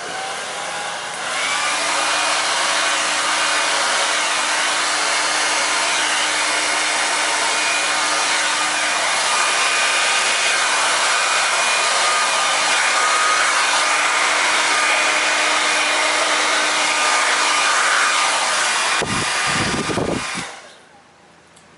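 A hair dryer blows steadily over poured epoxy resin to push it into ocean wave shapes, a loud, continuous airy whir that runs for about twenty seconds, with a few soft knocks near the end before cutting off.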